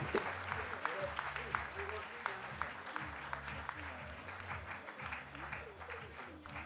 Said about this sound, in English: He deserved all the big round of applause